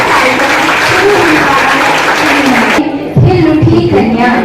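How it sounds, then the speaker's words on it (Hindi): Loud, dense clapping from a crowd at a ceremony for ANM nursing students on the Katihar Sadar Hospital campus, briefly cutting off near the end before resuming, with a voice faintly present. "एक बार जोरदार तालियां बजा दे।"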